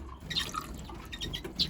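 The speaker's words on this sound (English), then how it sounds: "Just fresh water, topping up the drinkers just like that" Fresh water trickling and dripping into bird drinkers during a top-up, soft splashes and drips in short bursts, close and fairly quiet.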